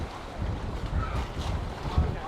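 Gusty evening wind on a jetty at Coogee, Western Australia buffets the microphone, making a constant low, rumbling roar.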